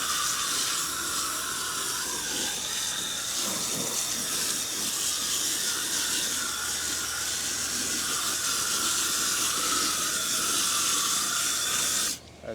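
Water poured steadily into dry peat moss seedling mix, a continuous close hissing spray that runs unbroken for about twelve seconds before cutting off abruptly.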